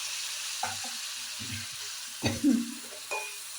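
Chili powder being sautéed in a pan for Kerala-style fish curry, with a steady soft sizzle and several louder scraping stirs of a spoon against the pan, close and alone without talk.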